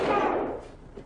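A single gunshot from the Mad Dog McCree video game cracks out loud and close at the start, then rings off in a fading, echoing tail with no talking over it.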